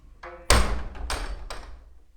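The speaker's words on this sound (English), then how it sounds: "Mind the door on your arm, Jim." A heavy door swings shut with a loud thudding slam, followed by a couple of rattling knocks as it settles, close by in a small, quiet interior.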